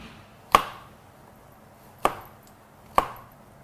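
Peeled mushrooms are coarsely chopped with a knife on a board, three crisp, separate knocks at an uneven pace in a quiet room.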